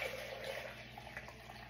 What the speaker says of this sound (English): first I'm just gonna put the water in here